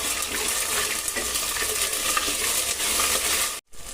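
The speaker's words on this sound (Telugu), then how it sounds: "ఒక స్పూన్ ఫుల్ అల్లం వెల్లుల్లిపాయ పేస్ట్ వేసుకుంటున్నాను" Ginger garlic paste fries with spices in a pan for a chicken biryani, giving a loud, steady, dense sizzle with stirring. The sound cuts out briefly near the end, then resumes.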